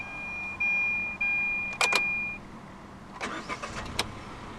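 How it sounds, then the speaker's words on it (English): 2014 Hyundai i10 1.0 manual hatchback started with the key, a few dash chimes and a steady warning tone, then two short cranking bursts and the small engine catching into a quiet, uneven idle close by. "Put your foot on the clutch and then just twist the key."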